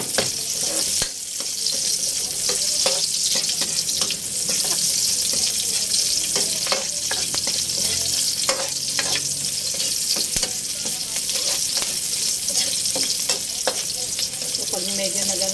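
Onions sautéing in a pan for ginataang gulay, a loud, steady sizzle with frequent scraping stirs and a few sharp clacks against the pan, with no voices.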